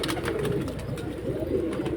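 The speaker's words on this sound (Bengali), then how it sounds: "বাচ্চা পায়রা" A young Giribaz pigeon chick gives a soft, continuous cooing murmur, close to the microphone and heard on its own without talk.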